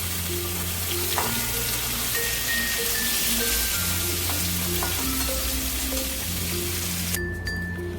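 Pointed gourd (potol) pieces frying in oil in a pan, a loud, dense, continuous crackling sizzle close by with a few light clinks, no voices.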